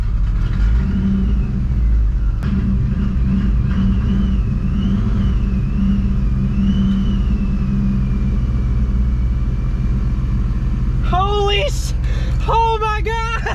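A 1999–2004 Ford Mustang GT fitted with a Vortech V3-SI supercharger starts up and runs, a steady loud engine drone with a supercharger whine rising and falling, and excited voices break in near the end.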